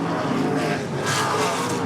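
A late model stock car at I-94 Raceway races past with a loud, steady engine roar and tire noise, close and continuous, with no talking.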